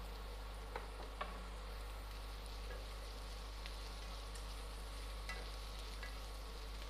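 Vegetables frying in a pan for veg fried rice make a faint, steady sizzle under a constant low hum, with a few soft clicks of stirring and no talking.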